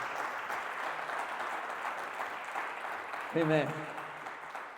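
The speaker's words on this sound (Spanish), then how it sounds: "Vamos a dar una ofrenda de palmas." A church congregation gives sustained applause, a continuous broad patter of many hands at moderate distance, with a single spoken word rising briefly near the end.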